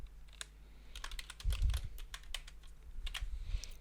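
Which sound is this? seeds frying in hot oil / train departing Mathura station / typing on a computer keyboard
typing on a computer keyboard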